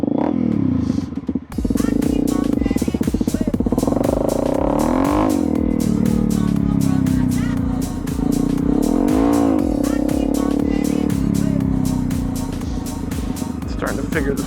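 A Honda CRF250L dirt bike engine revs and surges in a parking lot during wheelie practice, its pitch rising and falling repeatedly over several long pulls, close and loud, with a rider's voice heard over it at times.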